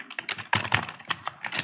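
Quick irregular keystrokes on a computer keyboard, close and crisp, as text is entered into an Outlook email signature form; bursts of clicks with brief gaps, no voice.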